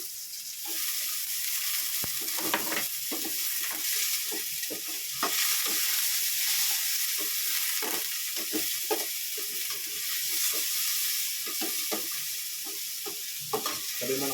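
Chopped garlic and onion browning in a hot pan, with a steady close sizzle and intermittent scraping, clattering strokes as the mixture is stirred.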